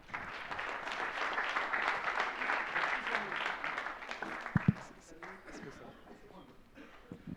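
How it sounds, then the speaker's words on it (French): Audience applause at the welcoming speech of the Emerging Valley 2017 entrepreneurs and start-up conference in Marseille: a dense, steady crowd clapping that fades after about five seconds, with a couple of sharp knocks near the end. "Je vous demande d'applaudir Monsieur Parakian."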